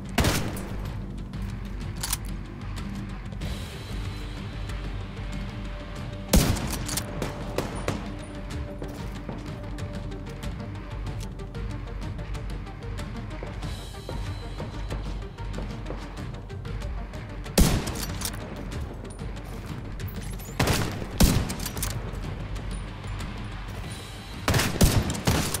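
Gunfire in Tom Clancy's The Division 2 crackles in repeated bursts over a steady background rumble, with several sharper, louder volleys spread throughout.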